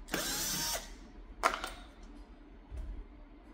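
A Phillips screw being backed out of a 2024 Lexus GX550 door panel, heard as a short burst of tool whirring followed by a sharp click and faint rattling handling noises, close by with no talk.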